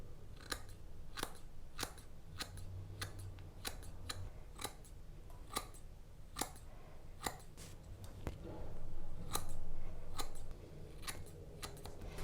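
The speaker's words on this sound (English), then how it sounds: "cutting the first layer, combing out, cutting a layer behind it, combing out, and then cutting underneath" Scissors trimming a short mustache, snipping in a steady run of crisp, close cuts, about a dozen across the stretch with short pauses between bursts, over a quiet room background.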